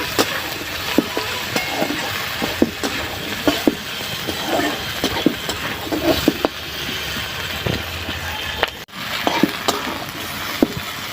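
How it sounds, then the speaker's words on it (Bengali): Chopped tomatoes frying with jackfruit seeds in a pan, giving a continuous close sizzle broken by repeated stirring scrapes and soft clicks of the spoon. "টমেটোটা দিয়ে আমি আরও খানিকক্ষণ ভাজবো।"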